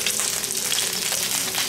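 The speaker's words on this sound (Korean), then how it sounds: "소세지를 데쳐줍니다." Sausages drop into a pot of rolling boiling water, giving a loud, close, continuous bubbling and hissing wash with no voices.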